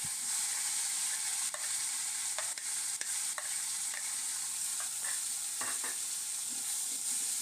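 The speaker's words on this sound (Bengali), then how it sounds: "এখন আমি কড়াইতে পেঁয়াজ কুচিগুলো দিয়ে দেব" Chopped onions sizzle steadily in hot oil in a wok for a red spinach and prawn dish, with a constant bright hiss and scattered clicks and scrapes of stirring throughout.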